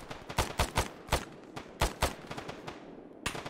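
Gunfire in a video game shooter with the player pinned down and outnumbered, sharp shots cracking in quick irregular bursts, some close together, then a pause and a final shot.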